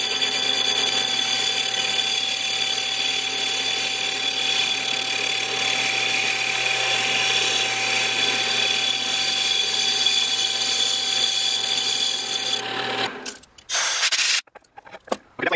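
A small lathe mill drill turning a corroded brake drum, a steady loud grinding hum with a high cutting whine that stops abruptly near the end, followed by a few clunks.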